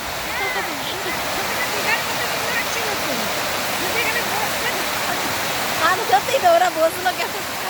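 Water overflowing from a dam, a broad continuous roar of rushing water heard up close, with a voice talking over it.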